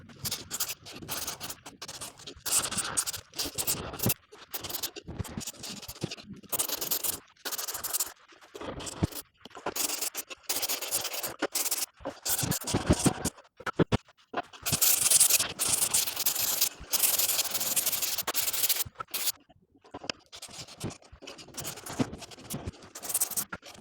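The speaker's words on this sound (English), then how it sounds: "So I'm going to go ahead and sand this all up." Hand sanding of a wooden floor register cover to strip its old finish, heard as bursts of close, loud scratchy rubbing strokes in uneven rhythm with brief pauses and no talking.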